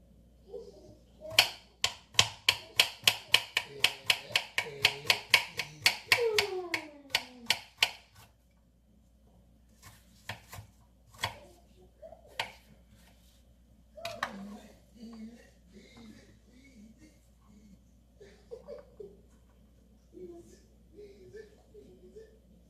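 A kitchen knife chops fire cider ingredients on a board, starting with a fast run of sharp, regular knocks that then thins out into scattered single taps with long quiet gaps, all heard close up.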